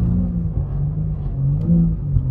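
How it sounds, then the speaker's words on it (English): A BMW M3 drifts on a snowy track, its engine holding a steady, deep, close rumble with slight swells in revs and no break throughout. "driving an M3 in winter is a lot of fun"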